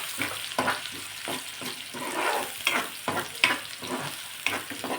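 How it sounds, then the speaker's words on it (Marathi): Finely chopped onion, one medium onion, frying in oil in a pan for hotel-style palak paneer, a steady close sizzle with repeated stirring scrapes and clatters throughout, no voices. "कांदा सोनेरी रंग येईपर्यंत तेलामध्ये परतून घ्यायचा"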